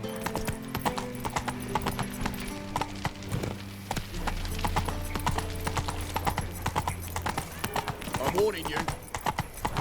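Horse hooves clip-clop steadily at a gallop in The Witcher 3 on PlayStation 5, close and continuous, with game music beneath and a voice speaking over it.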